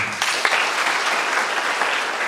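Dense, steady applause from an audience at a church Easter youth camp in Wondama fills the whole short stretch, loud and continuous with no talk over it.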